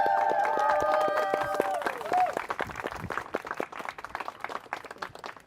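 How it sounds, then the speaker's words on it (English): An outdoor audience gives a round of applause, dense clapping building under a voice and mixed with cheering that thins toward the end. "give them a round of applause"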